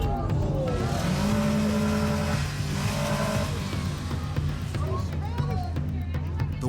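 A car chases another driver through a parking lot during a road rage attack, its engine revving and tires squealing continuously under a busy mix of voices and shouting.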